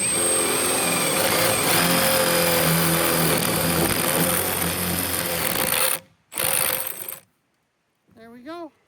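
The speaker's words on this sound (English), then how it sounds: "Now I'm going to drill it backwards." A drill bores a hole backwards through a wooden board, with a loud steady grinding whir for about six seconds, a short burst after it, and then quiet.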